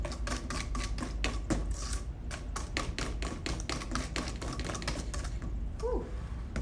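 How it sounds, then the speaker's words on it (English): A whisk beating meringue by hand in a bowl, rapid steady clicking taps of metal wires against the bowl, close and continuous, fairly quiet, with no talking. "I'm gonna whisk a little bit longer."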